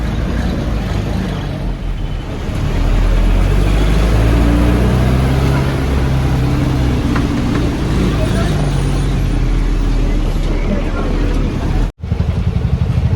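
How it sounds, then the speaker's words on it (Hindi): Congested road traffic on the Haji Ali road in Mumbai, heard from inside a vehicle as a loud, continuous rumble of engines with steady road noise and a brief cutout near the end; someone talks over it throughout. "बॉम्बे के अंदर भी बहुत ज़्यादा ट्रैफिक है"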